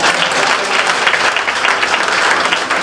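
A church congregation at a Sunday service applauds in a dense, steady wave of clapping, loud and close, going on for the whole stretch with faint voices mixed in.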